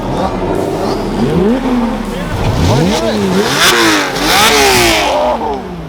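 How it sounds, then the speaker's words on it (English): A turbocharged Lamborghini Huracan revs hard and accelerates away at a rally launch party, its engine note climbing and falling in repeated loud sweeps, close by, with crowd noise and voices underneath. "I hear turbos on that Huracan"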